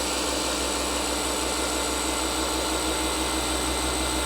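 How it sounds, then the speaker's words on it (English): A car polisher buffs damaged clear coat on a hood with new pads, giving a steady, loud motor whine and whirr that holds evenly throughout, with no talking. "I'm letting the polisher do the work."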